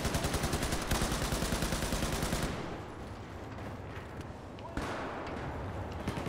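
Weapon fire in Battlefield 4 on the Hammerhead map from the Final Stand DLC, heard as a loud, dense rapid-fire burst for the first two and a half seconds, then fainter, more scattered shots beneath someone speaking.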